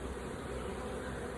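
Honey bees in an open beehive drone in a dense, continuous buzz, close and steady throughout with no pauses or voices.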